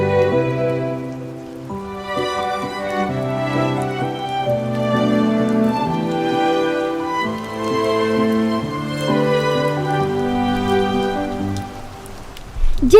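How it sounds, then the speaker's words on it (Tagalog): Heavy rain pours down in a drama scene, a steady hiss running beneath a loud, continuous musical score for the whole stretch. "Ang lakas ng ulan!"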